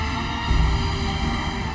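A U-2 spy plane flies past with a steady, dense roar that holds evenly throughout, loud and close with no other sounds.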